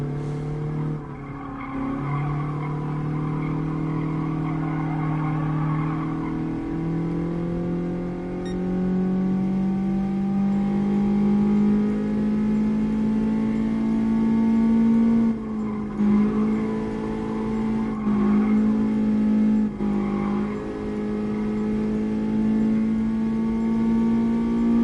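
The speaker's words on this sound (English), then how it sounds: "Feels so weird driving these old school cars." Old-school cars in the GT Sport racing game, played in VR: a steady engine drone climbs slowly in pitch as the car accelerates through the gears, loud and continuous, with brief dips at shifts and no talking.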